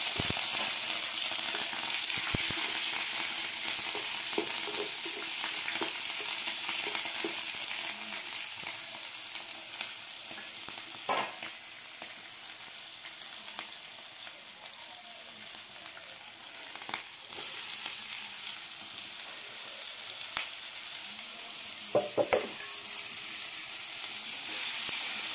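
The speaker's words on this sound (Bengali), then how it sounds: "এখানে তেজপাতা, রসুন দিয়ে সম্বাদ দিয়ে আর লঙ্কা কুচি সম্বাদ দিয়ে লাউয়ের তরকারিটা বসিয়ে দেব" Bottle gourd curry fries in a pan with bay leaf, garlic and chopped green chili, giving a steady, bright sizzle throughout with a few soft clinks and stirring knocks.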